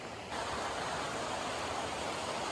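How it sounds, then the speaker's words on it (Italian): A glacial meltwater river in Alaska rushes steadily, a dense continuous hiss of flowing water that swells in loudness after a quieter opening moment and then holds constant, close and unbroken. "Praticamente tutta quest'acqua qui alle mie spalle è quella che arriva dallo scioglimento del ghiacciaio che c'è lì sopra."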